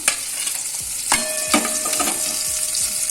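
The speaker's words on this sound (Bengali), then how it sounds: "ওই তেলেতেই একটু তেল দিয়েছি, দিয়ে পেঁয়াজগুলো দিয়ে দিলাম" Onions sizzle loudly in leftover prawn-frying oil topped up with a little more oil, a dense continuous hiss close up, with a couple of spatula scrapes and clacks and no voices.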